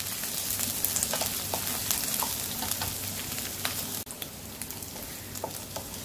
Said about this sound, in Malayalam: ചെറുതായി അരിഞ്ഞ് വെച്ചിട്ടുള്ള സബോള ഇട്ട് കൊടുക്കാം.